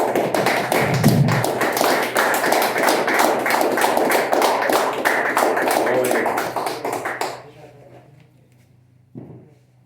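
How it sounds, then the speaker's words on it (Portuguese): A church congregation claps together in sustained, dense applause for about seven seconds before it dies away, with voices mixed in. "Vamos aplaudir o Senhor Jesus."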